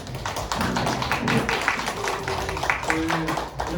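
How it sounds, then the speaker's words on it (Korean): A small group at a church youth service claps to welcome a newcomer, giving steady, close, fairly loud applause with faint voices mixed in. "박수 한번"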